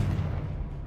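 The Confringo spell blasts in Hogwarts Legacy, a short, heavy, low-pitched burst that rumbles briefly.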